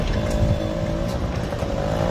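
Cars and other vehicles drive along a potholed town road, with a loud steady engine and tire rumble close by throughout.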